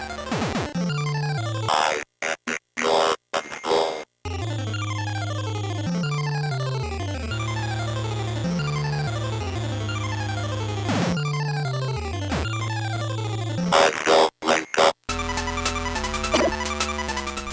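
Pinbot NES pinball video game playing busy chiptune music layered with dense electronic sound effects, continuous and loud with a few abrupt dropouts and a change of tune near the end.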